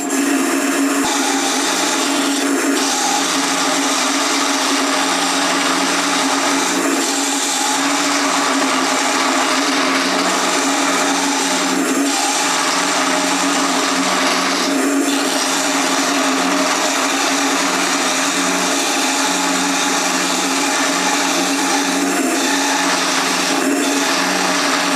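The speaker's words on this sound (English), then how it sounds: "I'll just finish shaping this wee bit." A woodturning lathe spins a wooden battling top while a tool shapes it, giving a loud, continuous whirring hum with a steady scraping hiss and a few brief shifts in pressure.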